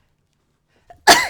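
A single abrupt sneeze bursts out close and loud, preceded by a faint intake of breath in an otherwise quiet room.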